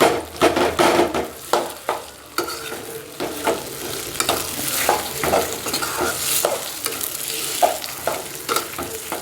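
Rice-flour dough for steamed neer urundai being sautéed and stirred in a pan, with repeated scraping strokes over a steady sizzle, close and fairly loud, no talking.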